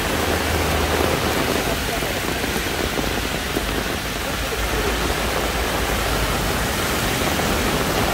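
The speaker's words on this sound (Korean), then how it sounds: "갑자기 내리는 폭우로 도로가 지금 강으로 변했습니다" Sudden heavy downpour flooding a road in Gwangju, a dense, steady roar of rain and rushing water that fills the whole scene at constant loudness.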